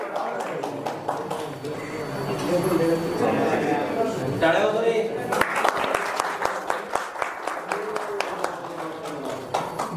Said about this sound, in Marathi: अरे टाळ्या वाजवा खाली बसून.